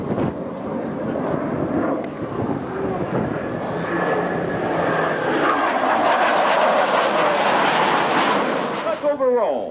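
US Navy Blue Angels jets roar past at the 1996 Cleveland National Air Show, a broad loud rush swelling and fading as the aircraft break away, with an announcer talking over it.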